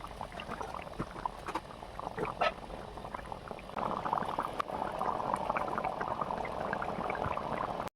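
Water coming to a boil in a pot for hilsa fish curry with tomato, a steady bubbling and hissing simmer that grows fuller and denser partway through, with no talking.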